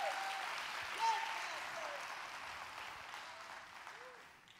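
A church congregation clapping hands in a worship service, a fairly faint, continuous wash of applause with a few brief voices rising above it.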